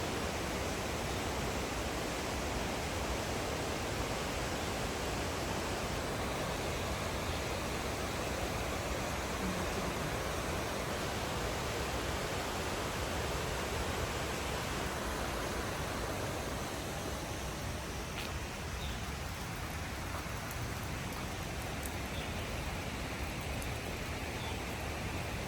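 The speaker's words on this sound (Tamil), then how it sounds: "வெளியே பாருங்கள் அப்படியே ஒன்றும் மழை பெஞ்சிட்டு தான் இருக்குது" Rain falling outside in Anakulam, Kerala, a continuous, even hiss that holds steady throughout with no talking.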